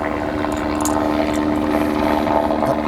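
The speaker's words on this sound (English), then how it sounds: "Helicopter going by." A helicopter flying by near an airport, a loud steady droning rumble with a rhythmic rotor throb filling the whole stretch, no voices over it.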